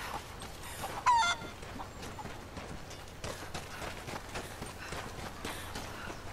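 Chickens cluck in the video game Rise of the Tomb Raider, scattered soft clucks and one sharper squawk over a steady outdoor game ambience with light footsteps.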